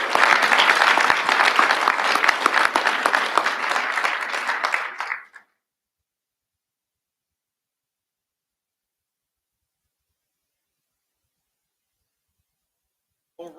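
Audience applause at the 2023 SANS Difference Makers Awards Ceremony, dense loud clapping from a room full of people for about five seconds before cutting to silence, with a faint voice at the very end.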